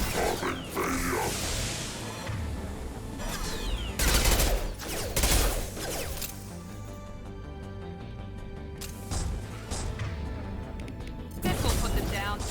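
Rapid gunfire and fusillades from a Mass Effect 2 firefight on Insanity difficulty crackle loudly and continuously, with bursts and impacts under spoken in-game voice lines.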